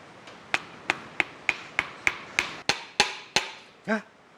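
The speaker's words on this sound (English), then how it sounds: "Grab our hammer." A hammer taps a piston into an engine bore about a dozen times in a steady, quickening rhythm, sharp close metal knocks, followed by a short squeak at the end.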